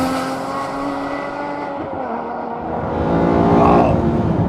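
An Aston Martin One-77 EVO's engine revs hard past 4,500 to 5,000 RPM, a loud, steady snarling drone that climbs and swells toward the end, heard alone.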